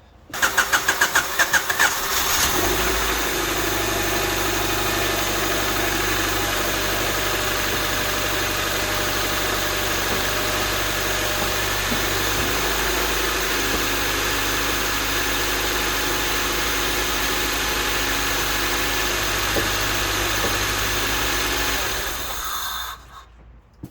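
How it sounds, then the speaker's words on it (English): A Honda EK Civic engine cranks, catches and idles steadily and close for a long stretch while the clutch is pumped in neutral, with a subtle shift in its drone partway through. "I was doing what made that horrible noise before, pumping the clutch in and out in neutral"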